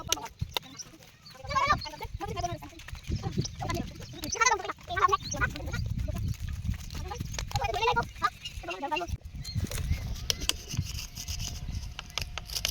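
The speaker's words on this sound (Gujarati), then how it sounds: "પક્ષીઓ" Several chickens cluck and squawk close by in repeated bursts over a low rumbling background.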